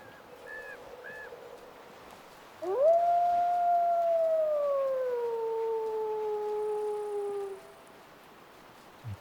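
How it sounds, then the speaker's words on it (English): Wolves in the Way of the Hunter hunting game let out one long, clear howl that rises sharply, then holds and slowly falls over about five seconds, with a faint yip beforehand and no talking. "Okay, so it's the wolves we're hearing."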